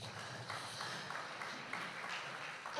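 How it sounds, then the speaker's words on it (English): Scattered applause from the audience at a Brooklyn community board meeting, steady and rather faint, heard alone. "Could you give yourself a round of applause, please?"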